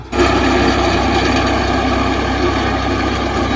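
A tractor engine running in a wheat field during harvest, a loud, steady droning rumble close by that holds evenly throughout with no talk.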